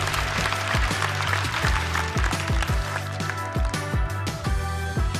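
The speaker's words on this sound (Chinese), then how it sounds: "再次把掌声送给张俊。" An audience at a stand-up comedy competition claps for a contestant, the applause mixed with a rhythmic musical beat.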